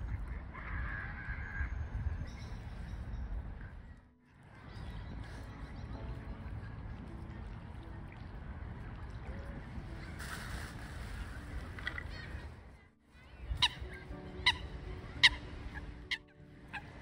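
Swans with a young cygnet, in an outdoor waterside setting, give repeated honking and gobbling calls over a steady noisy background, followed near the end by a few sharper, louder calls after a brief lull.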